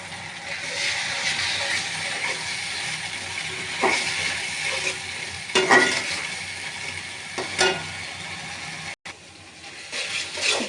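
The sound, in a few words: frying masala with a little water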